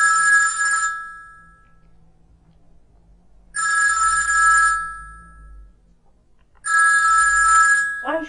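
A telephone bell rings in three loud, bright bursts about three seconds apart, with near silence between rings, in a scene from an Ethiopian comedy film.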